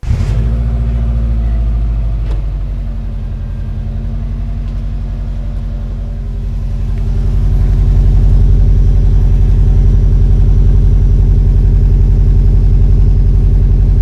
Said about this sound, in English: put the camera close to the exhaust and see if this time we can capture the proper noise that I can hear every time